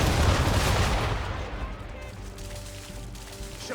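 Ship cannons in the video game Assassin's Creed III fire in a heavy, booming blast that opens the clip loud and rolls off into a long, fading rumble.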